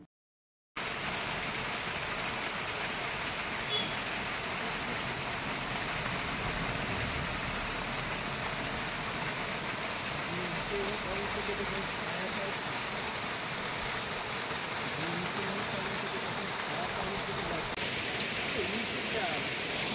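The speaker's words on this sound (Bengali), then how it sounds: "একটি সুন্দর পাহাড়ি ঝর্ণা দেখতে পেলাম" A mountain waterfall near Rinchenpong in West Sikkim gives a steady, dense rush of falling water that holds at an even level throughout.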